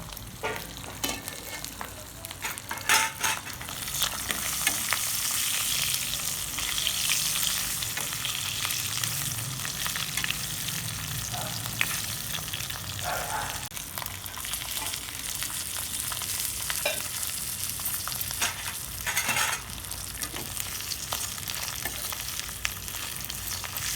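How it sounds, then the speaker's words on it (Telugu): Salted fish fries and is stirred in a pan of hot oil for an Andhra recipe, giving a steady close hiss and sizzle with occasional scraping stir noises throughout and no talking. "చేపలు అయితే వేగిపోయిందండి"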